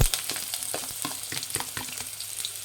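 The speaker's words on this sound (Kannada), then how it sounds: "ಈರುಳ್ಳಿನ ಎಣ್ಣೆ ಚೆನ್ನಾಗಿ ಈರುಳ್ಳಿ ಫ್ರೈ ಆಗಿದೆ" Finely chopped onions and curry leaves fry in hot oil for a tomato gojju, a close, crackling sizzle broken by quick stirring scrapes, no voices.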